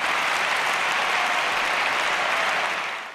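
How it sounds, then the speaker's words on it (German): Dense, sustained applause from a large party-conference audience fills the hall after a speech by Angela Merkel, loud and even throughout before beginning to fade at the end. "es gab Riesenapplaus"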